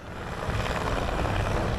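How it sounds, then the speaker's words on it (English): A helicopter flies nearby with a dense, continuous rotor and engine roar that holds steady and fairly loud throughout the short stretch, with no talking. "loads of us just going on these helicopters"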